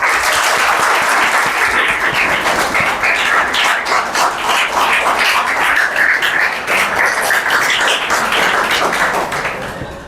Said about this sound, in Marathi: ज्या टाळ्या वाजल्या